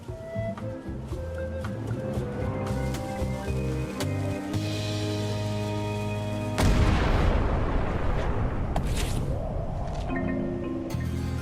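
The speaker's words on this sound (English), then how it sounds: "Ready for cannon firing." A ship's cannon fires in the video game Return to Monkey Island, one heavy boom bursting out over the game's steady music partway through and then rumbling away as the music carries on.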